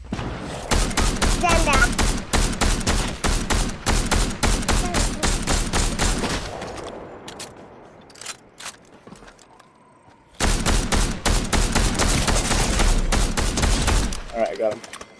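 Rapid gunfire bursts in the battle royale game Fortnite, dense volleys for about six seconds, a quieter lull with a few distant pops, then another sustained barrage, with brief talk in between.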